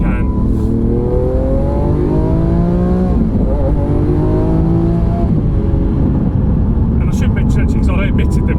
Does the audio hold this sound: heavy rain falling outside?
no